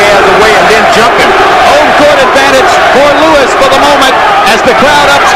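A boxing arena crowd at Lennox Lewis vs Evander Holyfield chants for Lewis, loud, dense and sustained, with rhythmic massed voices and babble filling the whole stretch.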